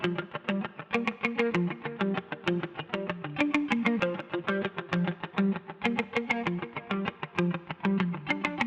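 Electric guitar solo on the minor pentatonic scale, treated with chorus, phaser and reverb, playing a steady run of quick, evenly picked notes, up close and alone without talk.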